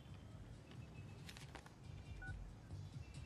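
A telephone number being dialed in a Hindi Bollywood film: a brief keypad tone beeps once, faint, over a soft muffled background.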